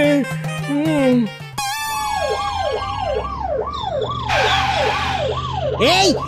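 A loud ambulance siren wails in repeated rising and falling sweeps, close by, with a higher tone briefly layered over it.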